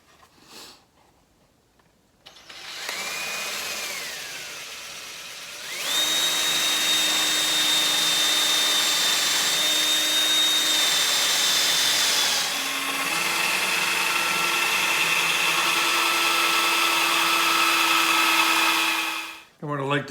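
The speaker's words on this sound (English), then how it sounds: "I want to make sure that I'm drilling that pilot hole that's going to be deep enough." A power drill drives a Forstner bit into oak to bore a pilot hole. It whines steadily and loudly for a long stretch, with a pitch shift partway through, then stops abruptly.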